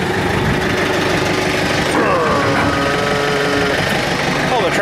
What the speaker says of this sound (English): but I just got to pull the tractor back here